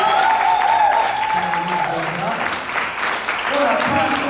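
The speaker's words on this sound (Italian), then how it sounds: "Quindi intanto gli farei un applauso." An audience at a poetry slam claps for performers on stage, steady mid-level applause with a voice speaking over it.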